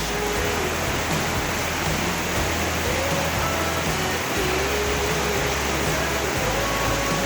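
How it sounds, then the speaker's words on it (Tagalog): Heavy rain pours down steadily as a dense, constant hiss and patter that stays loud and close throughout, with no pauses. "Ayan na nga yung ulan."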